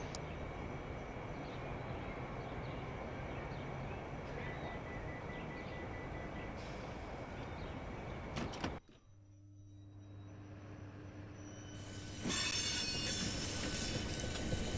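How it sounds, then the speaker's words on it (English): A Southeastern train in Train Simulator on the London Victoria to Orpington route via Herne Hill, a steady rumble of wheels and motors that cuts out abruptly, then a quieter hum before a louder swell returns. "Since this train is now ready to depart."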